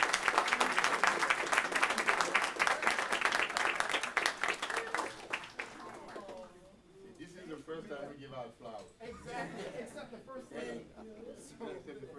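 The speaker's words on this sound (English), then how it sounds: "please give a welcoming round of applause to Senator Daphne Campbell" An audience at a North Miami council meeting breaks into loud, dense applause welcoming a senator, the clapping fading after about six seconds into scattered claps and chatter.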